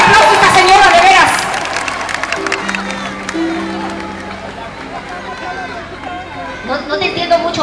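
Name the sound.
concert audience applause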